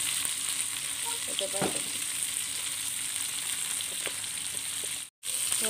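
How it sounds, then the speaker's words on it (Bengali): Onions frying in hot oil in a kadai, a continuous close hiss and crackle with occasional stirring clicks, steady throughout apart from a brief cut near the end, no talk. "তেল গরম হয়ে গেছে, পেঁয়াজ দিয়ে দিলাম ওর মধ্যে।"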